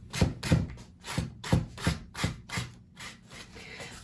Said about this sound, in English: I just like to take the sandpaper. This is just, I think it might be a 80 grit, and just lightly kind of just touch it on the high areas